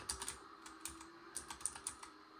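Computer keyboard typing while gaming on a handheld console dock: quick, light key clicks in an irregular run of taps, close and fairly quiet, with no talking.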